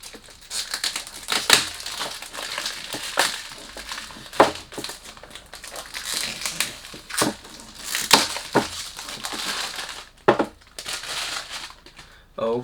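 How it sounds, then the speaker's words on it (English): Thick plastic packaging crinkles and crumples in bursts as a bottle of Al Haramain Oudh Adam perfume is unboxed, close and moderately loud, with a voice speaking quietly underneath. "When you do unboxing, you can't do much about the noise."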